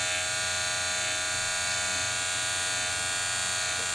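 Electric trimmer edging a haircut lineup, a steady high-pitched buzz that holds evenly throughout, close and continuous with no talking.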